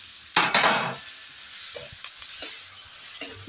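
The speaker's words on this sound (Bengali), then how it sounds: "দিয়ে আমরা এটা একটু ভালো করে নেড়ে নেব।" Sweet corn, carrot and beans stir-fried in a pan for white sauce pasta: a loud burst of sizzling as they go in, followed by softer hissing and scattered spatula scrapes and stirring clatter, with no voices.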